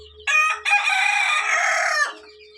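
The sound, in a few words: rooster crowing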